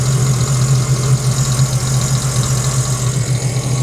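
A Sea-Doo jet ski engine idles steadily on a trailer during warm-up, a continuous low drone with a faint rattle running through it, close and loud, no voices.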